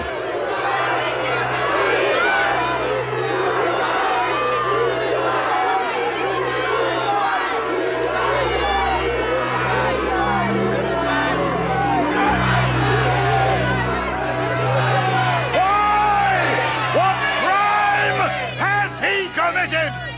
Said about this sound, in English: But they shouted all the louder.